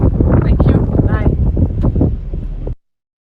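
Wind buffets a microphone outdoors in loud, continuous low rumbling gusts with no break, cutting off abruptly near the end.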